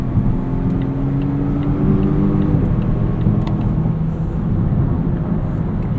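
Interior view of a 2021 Volvo V90 Cross Country T6 AWD with an 8-speed automatic, a steady engine drone and road rumble as the car drives, with a rising tone that drops away at a gear change.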